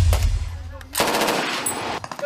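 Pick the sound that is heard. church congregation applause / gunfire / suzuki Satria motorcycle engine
gunfire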